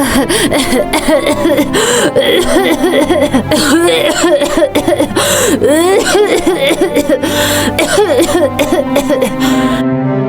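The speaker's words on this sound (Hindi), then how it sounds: "खांसी फिर से बढ़ गई है क्या?" A woman coughs repeatedly in harsh bursts, with chest pain, over a steady background of music, loud and close throughout.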